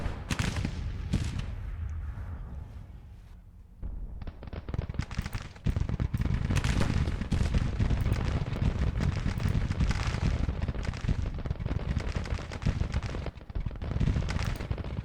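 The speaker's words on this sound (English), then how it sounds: "You can still hear those Gatling guns firing." Gatling guns firing on a Civil War battlefield in the strategy game Grand Tactician: The Civil War, a sustained crackle of rapid shots with booming reports, continuing almost unbroken after a short lull.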